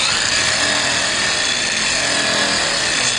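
A power polisher buffs a car headlight at low speed with a steady, dense whirring hum that stays constant and close throughout, with no talking.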